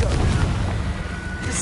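Blasting-spell explosion in a fantasy video game on PS5, a loud booming burst followed by rumbling debris, heard close with game music and effects underneath.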